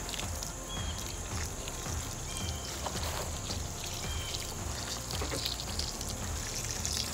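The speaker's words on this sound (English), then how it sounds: "take some of my rain water and we're gonna water them in" Rain water poured from a container onto pea seedlings in soil, a steady splashing gush that continues evenly for several seconds, close and fairly loud.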